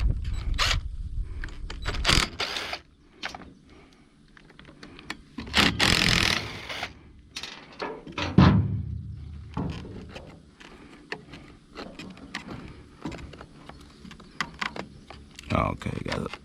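Sockets clinking and ratcheting while bolts come out of the carburetor on a Stihl FS70R string trimmer, in short bursts of close metallic clicks and rattles spread over the clip, with someone talking at times.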